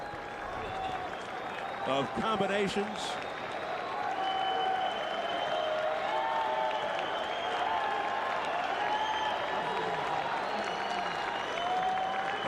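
A boxing arena crowd applauds and murmurs during a Mike Tyson vs Francois Botha bout in 1999, a continuous roar of clapping and cheering kept up under a ringside commentator's talk.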